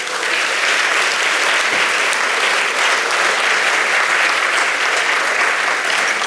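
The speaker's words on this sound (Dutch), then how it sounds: "Geef ze een applaus." A congress audience gives a loud, dense, sustained round of applause for panel guests at a Dutch media conference, a continuous wash of many hands clapping.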